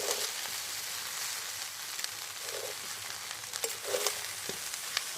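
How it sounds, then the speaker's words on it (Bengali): Mixed fried rice is tossed and stir-fried in a pan, a soft, steady sizzle with scattered clinks and scrapes of stirring, fairly quiet. "খুব ভালো করে উপকরণগুলো পাঁচ মিনিট মিশিয়ে এরকম নেড়ে ছেড়ে ফ্রাই করে নিতে হবে"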